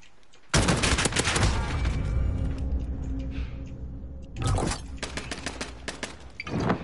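Gunshots in a Modern Warfare gunfight, loud rapid bursts of automatic fire, then a quieter lull, then another close burst of shots.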